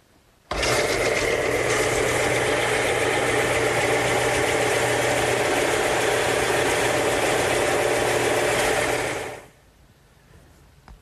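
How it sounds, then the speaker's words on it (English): A stationary belt sander tapering a wooden piece for a cricket table switches on abruptly, runs with a steady loud whir and abrasive hiss for about nine seconds, then winds down and stops. "But I'm going to use my stationary belt sander."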